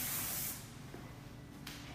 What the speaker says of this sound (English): I'm going to get some spray into it